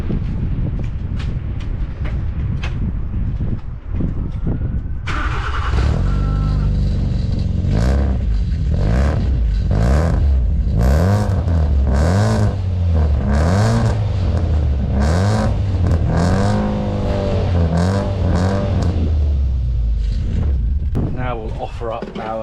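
A Nissan Micra K11 engine fitted with an induction kit revs repeatedly in rising and falling bursts, loud and close, with a steady running drone between blips and some clatter near the end.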